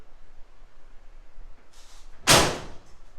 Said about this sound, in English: Doors close solid and firm.